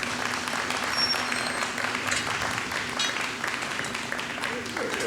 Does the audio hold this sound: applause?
yes